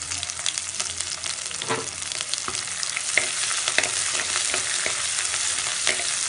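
Three finely chopped green chillies hit hot oil in a pan for green gram sundal, giving a loud, dense, continuous sizzle with faint crackles running throughout.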